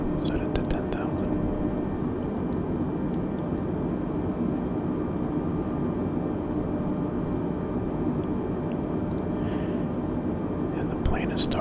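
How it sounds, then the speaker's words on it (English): A steady, close airplane engine drone from a flight simulator game runs unbroken throughout, with soft whispering over it. "And the plane is starting to turn."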